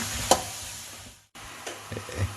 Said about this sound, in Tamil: மஷ்ரூமும் அந்த பட்டரும் வெங்காயம் எல்லாமே நல்லா மிக்ஸ் ஆகணும்